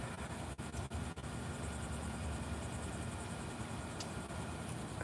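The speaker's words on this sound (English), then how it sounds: "Helicopter, yeah." Steady rotor wash of a helicopter flying overhead fills the whole stretch as a loud, broad, continuous roar with no voices over it.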